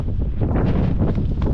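Cold wind buffeting the microphone at a summit campsite, a loud, close, rumbling gusty roar that continues unbroken.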